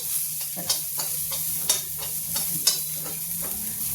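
Cumin, onion, ginger and red and green chillies sizzle in hot oil, with a steady frying hiss under a few sharp spatula scrapes and taps as they are stirred, close and fairly loud.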